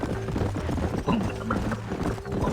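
Horse hooves clopping in Red Dead Redemption, a steady rhythmic trot close by over a dull background, with faint mechanical rattles and no speech.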